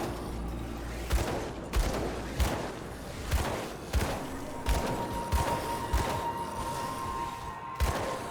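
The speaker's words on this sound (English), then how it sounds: "Stop throwing grenades at me." Grenades explode in the video game Grim Dawn, about a dozen sharp, punchy blasts landing at a fairly regular pace, loud and close, with a faint steady tone running underneath.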